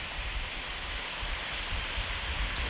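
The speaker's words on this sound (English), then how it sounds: "Once I passed the waterfall though" A waterfall beside a hiking trail in Ireland's newest national park gives a constant, dense rush of falling water, steady and fairly close, with no voices.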